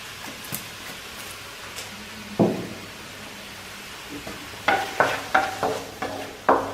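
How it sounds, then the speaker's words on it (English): Tomato and mixed spice cooking in a pan, a steady low sizzle with a few sharp spoon knocks and stirring clinks near the end, close and fairly quiet. "I cook my tomato until tender."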